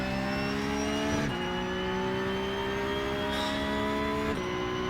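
Race car engine under throttle in the iRacing sim, a steady loud whine climbing in pitch with brief dips at gear changes, continuous and close with no talk.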